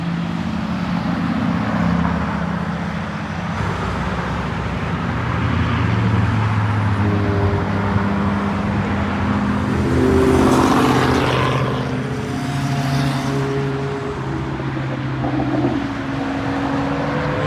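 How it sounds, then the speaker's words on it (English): A Lamborghini Urus Performante drives past on Woodward Avenue during a car-spotting outing, its engine swelling over steady street traffic noise and then fading away. "Is that a Performante Urus?"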